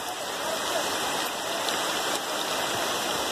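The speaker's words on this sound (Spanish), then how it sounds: "ahí nos coge la lluvia mucho más, porque estos árboles al menos la protegen" Steady rain falling on trees during a hike on Cerro de la Virgen de Guadalupe, a continuous close hiss of drops on leaves without pause.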